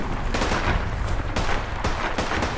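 AK rifle fire in a heavily modded Fallout 4 battle: loud, rapid bursts of automatic gunfire crackle close by, several volleys overlapping with echoing booms and no pauses between them.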